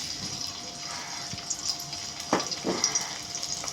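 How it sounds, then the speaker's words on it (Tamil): Onions sizzling in hot oil in a pan for a chicken urundai kulambu, giving a steady close hiss with small crackles and a few louder spurts near the end, and no talking. "தேவையான அளவுக்கு எண்ணெய் ஊற்றிக்கலாம். வெங்காயம் போட்டுக்கலாம்."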